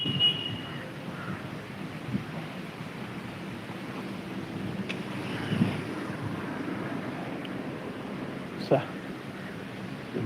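Steady broadband wind blowing outdoors with a rumbling, buffeting quality, continuous throughout, with a few brief louder gusts.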